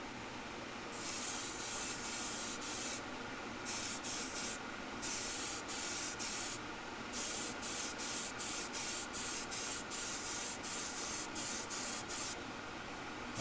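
An airbrush sprays a final coat of Vallejo paint in repeated bursts of hissing air, short on-off pulses at close range, with no talking.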